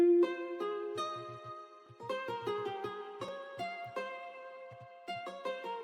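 Nylon-string guitar preset, Ace Nylon Light, playing a soft bass melody in FL Studio, a gentle sequence of plucked notes and small clusters at quiet level, evenly paced and heard alone.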